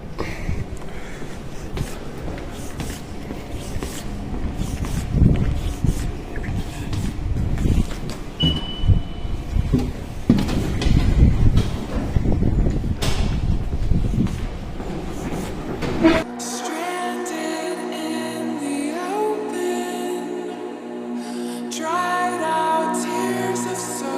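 At a Paris metro station on the line toward Châtillon–Montrouge, a train rumbles loud and close with rolling wheel and car noise for about sixteen seconds, then gives way to a quieter, steadier tonal hum.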